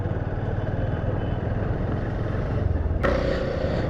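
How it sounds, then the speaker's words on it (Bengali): A motorcycle on a family bike tour in rural Bangladesh crosses a bridge near Netrokona, a continuous rumbling engine and road roar up close that shifts in tone near the end, with no voices. "আর ফাইনালি নিজের বাইক দিয়ে এই ব্রিজটা পার হচ্ছে।"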